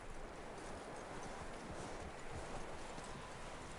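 Horse hooves clip-clopping in Red Dead Redemption 2, a steady rhythmic trot under a broad wash of game ambience, fairly quiet and continuous.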